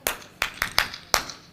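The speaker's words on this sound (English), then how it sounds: "I'm going to give you a clap. Listen first." A conference audience claps back in unison, five sharp group claps in an uneven rhythm with short pauses between them, and no talking.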